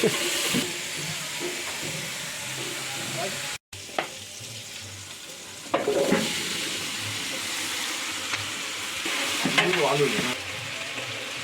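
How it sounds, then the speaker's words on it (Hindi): Hot oil sizzles and crackles steadily in a pan as cumin is tempered with tomato, with occasional bursts of louder spitting and stirring, and a voice speaking faintly underneath. "ये बनाने वाला पहले टमाटर डाला फिर जीरा का तड़का लगा रही"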